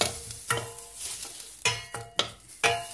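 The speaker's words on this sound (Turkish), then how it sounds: "Pembeleşene kadar bu şekilde kavuracağım." Chopped onion sautés in olive oil in a pot as it is stirred, giving a soft continuous sizzle broken by several sharp scrapes and clinks of the utensil against the pot, close and without talk.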